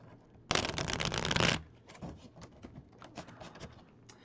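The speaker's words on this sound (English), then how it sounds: "guys want to watch me shuffle?" A deck of reading cards is riffle-shuffled once in a crisp, close burst lasting about a second, followed by softer handling taps and rustles.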